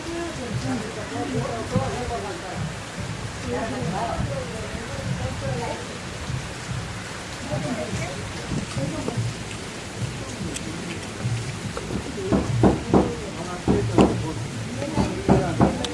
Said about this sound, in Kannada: ನೋಡಿದ್ರೆ ಮಳೆ ಹಿಂಗೆ ಹಾಕಂತ ಕೊಡ್ತಾ ಇದೆ